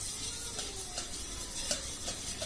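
Four eggs being beaten in a bowl, a steady run of brisk stirring and scraping strokes with small clinks, close and continuous.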